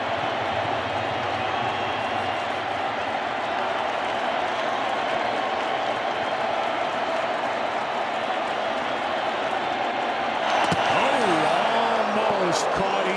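A packed ballpark crowd at a World Series playoff game between the Dodgers and Astros roars steadily as fans rise with two strikes on the batter, a dense sustained cheer swelling louder toward the end, with talk heard over it.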